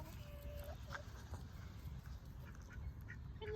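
A drake duck near a nest where ducks sleep, with short nasal quacks heard close by in the first second over steady low outdoor rumble and background bird sounds.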